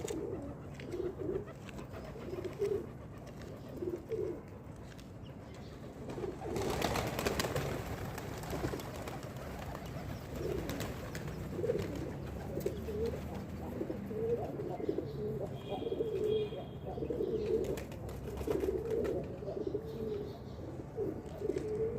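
Pigeons coo on a rooftop in a soft, low, continuous murmur over faint outdoor background, with a brief louder rustle partway through that could be wings or handling.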